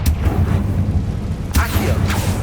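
Spell blasts from Bombarda and Confringo in the Hogwarts Legacy video game, heard as two loud, booming bursts about half a second apart over a rumbling game backdrop.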